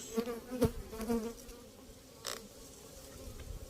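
Honeybees buzz at the hive comb during spring inspection, a faint close hum with a few louder buzzing passes of individual bees, no talk.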